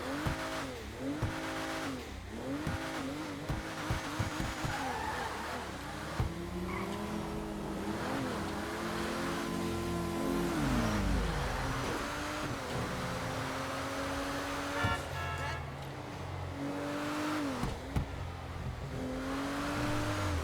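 A Maibatsu MonstroCiti in GTA Online revs its engine in repeated rising and falling bursts, with a longer sustained rev in the middle. The exhaust sounds moderately loud and slightly distant, and no one talks over it.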